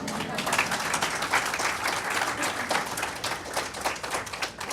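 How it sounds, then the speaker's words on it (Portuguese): Audience at a lecture on personal attitude applauding, a dense patter of clapping that holds steady for several seconds at moderate distance. "Quando vocês quiserem aplaudir Sócrates, fique à vontade, tá bom?"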